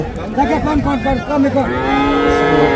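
At a Hazratpur cattle market, a calf gives a run of short, rhythmic bleating moos, followed by a longer, steadier bellow from nearby cattle over a low murmur of people.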